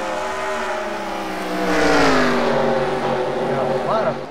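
Race cars roaring around Bristol track during a heat race, a pack of engines passing with rising and sliding pitch, loud and near, with talk over the top.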